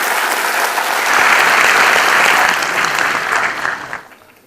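A convention audience at a hospitality event gives a big, loud round of applause for Jasminder, Prabhjot and their team, swelling to a dense roar of clapping and then tapering off sharply at the end.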